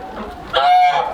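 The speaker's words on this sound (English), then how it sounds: "He's a good, healthy looking rooster." On a small home egg farm with a Dominique and a barred rock rooster, a chicken gives a loud, close squawking call midway, rising and holding briefly, over soft farmyard clucking and no talk.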